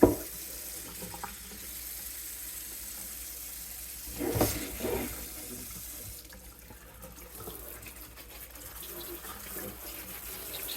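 Water runs steadily from a tap, rinsing the leaves of an indoor plant, splashing and spattering with a brief louder gush partway through, the flow continuing evenly to the end.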